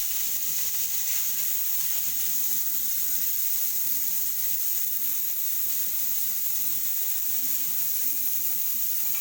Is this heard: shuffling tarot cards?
no